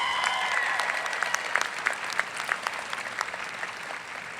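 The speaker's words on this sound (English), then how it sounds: "How about another cheer for Chanel?" A convocation crowd applauds and cheers for an honors graduate: dense, steady clapping fills the hall at moderate volume, with scattered sharper claps and a few whoops on top, tapering slightly at the end.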